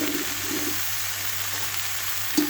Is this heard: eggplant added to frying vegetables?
yes